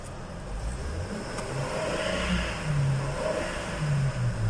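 A 2009 Chevrolet Trailblazer engine, one that had a crank-but-no-start fault, runs close by with a steady humming drone and small rises in pitch, and no pauses.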